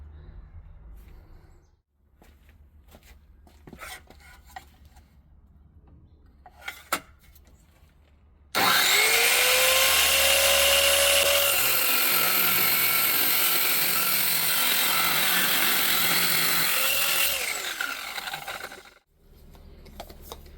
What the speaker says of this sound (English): the saw blade doesn't cut completely through because the stock is too big.